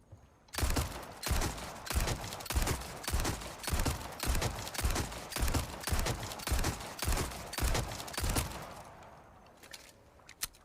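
Pistol fire in Resident Evil 4 Remake, with about seventeen sharp, evenly spaced shots in steady succession that stop abruptly as the magazine runs dry, followed by a few faint mechanical clicks.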